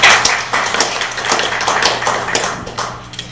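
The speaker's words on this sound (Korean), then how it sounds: "박수 부탁드리겠습니다." An audience at a human rights panel discussion claps steadily for about three seconds, a dense crackle of many hands welcoming a journalist to the podium.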